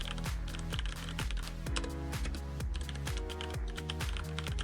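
A computer keyboard is typed on with quick, light keystrokes in irregular runs, partly buried under loud, rhythmic background music with a steady bass pulse.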